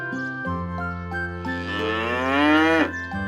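A single long, close cow moo rising and swelling in pitch before cutting off, loud and alone with no other sounds.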